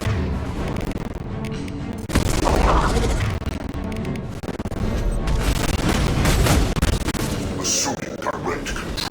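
A heavy weapon fires in the video game Mass Effect, a dense, loud barrage of booming blasts and crashing impacts that rolls on almost without pause, with chaotic battle noise layered underneath.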